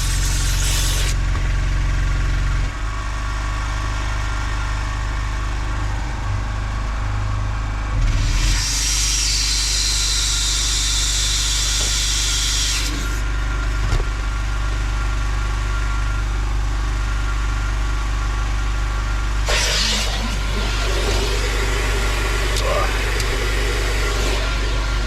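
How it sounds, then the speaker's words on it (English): A portable generator hums steadily while powering a hoover and a steamer during mobile car valeting, a constant low engine drone with bursts of hiss from the appliances, and a voice talks over it. "My generator doesn't quite like both of them going"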